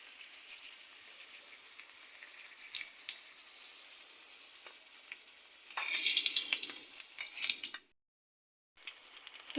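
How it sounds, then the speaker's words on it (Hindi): Keema rolls deep fry in hot oil, a soft continuous bubbling sizzle that surges louder for a few seconds near the end before cutting to silence. "अब हम इसे डीप फ्राई करेंगे"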